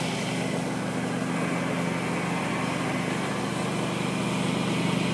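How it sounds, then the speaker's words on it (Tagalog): A small engine drones loudly and steadily, like a lawn mower running nearby, with a constant hum that does not let up. "lawn mower ba ang tawag dyan?"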